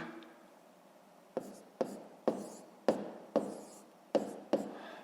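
Chalk or pen writing numbers during a fifth-grade math lesson, heard as a run of about eight crisp taps and short scratchy strokes in an uneven rhythm, close and fairly quiet over a low background hiss.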